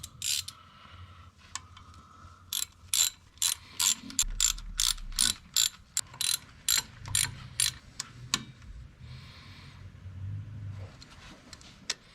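A hand ratchet tightening a Ford F-150 front hub, giving a series of sharp, close clicking bursts in uneven strokes with brief pauses between them in a quiet garage.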